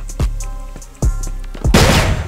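Rapid gunfire bursts from a shooting video game, several sharp shots followed by a dense, loud volley near the end, with no talk over it.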